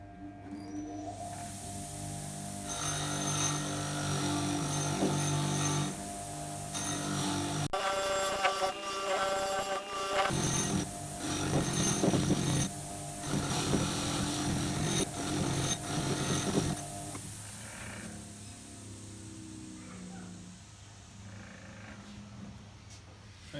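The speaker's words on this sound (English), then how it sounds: "So you'll see what happens once we hit it with the wire wheel." A power-driven wire wheel scrubs surface rust off a metal gear from a Scott Bonnar Model 45 mower, a loud, close, continuous whirring grind with shifting scraping tones and changes in pressure, running alone for about twenty seconds before winding down.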